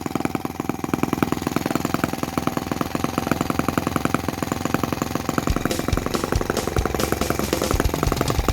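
A Microcosm T26 working model tractor with a 1.9cc gasoline engine runs continuously with a fast, even, loud, close-up chugging rattle.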